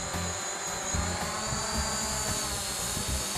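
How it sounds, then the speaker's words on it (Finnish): A drone lifting off to fly a peat bog mapping survey gives a steady, close whirring buzz of spinning rotors that holds level and unbroken throughout, with no voices. "painetaan nappia pohjassa 3 sekuntia, jolloin drone lähtee ilmaan"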